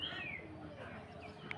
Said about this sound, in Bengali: সকাল সকাল উঠে কবুতরগুলো ছেড়ি